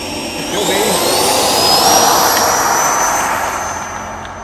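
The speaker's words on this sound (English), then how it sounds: "Gentle takeoff." A Freewing F-22 90mm electric ducted-fan RC jet taking off, a loud, close whooshing roar with a high whine that rises in pitch and swells, then eases slightly as it climbs away.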